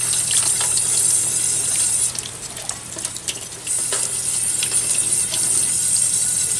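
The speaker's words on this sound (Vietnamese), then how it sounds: "Để mình rửa sạch sình đi." Running water from a tap rinsing mud off a sea jellyfish, a steady close splashing hiss that briefly thins and drops in the middle before resuming at full strength.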